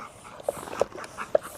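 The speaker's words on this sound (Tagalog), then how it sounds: "Oo, mga aso ko na naman." Backyard dogs near a bicycle let out several short, soft whimpers and yips spaced across the moment, with faint breathing and background noise and no barking heard.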